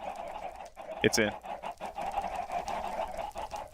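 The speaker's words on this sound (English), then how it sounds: "I'm going to stop these chickens from clucking like they always do" Minecraft chickens clucking in short bursts, close, with a brief louder squawk early on and a person speaking briefly.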